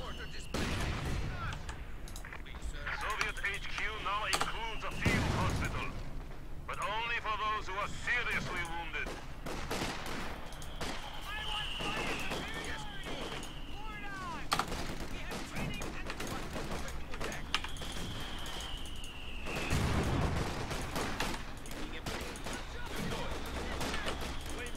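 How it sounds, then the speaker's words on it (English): Mortar shelling and artillery gunfire in a Company of Heroes 2 2v2 match, a dense battlefield mix of repeated blasts and shots at a steady loud level, with bursts around five and twenty seconds and a voice talking over it. "Oh, never mind, they're shelling me."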